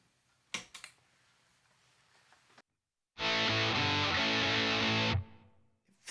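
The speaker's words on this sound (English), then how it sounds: "my guitar going into a Universal Audio Dream 65, then to a TC Electronic Nova delay, and then finally to a Strymon Flint for some reverb" A clean electric guitar runs through a Universal Audio Dream 65 amp, TC Electronic Nova delay and Strymon Flint reverb. After a few soft clicks and a pause, it plays one full, sustained chord for about two seconds, then cuts off.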